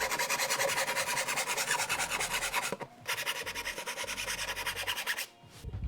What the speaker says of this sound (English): So we'll use this file to get us even with that line.